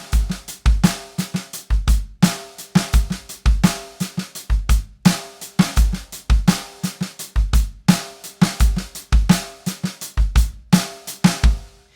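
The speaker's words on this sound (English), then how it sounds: "if we start to put accents in spots other than 2 and 4" A steady drum groove loops with sharp snare accents, soft ghost notes filling the gaps and a regular kick pulse underneath, played alone and close.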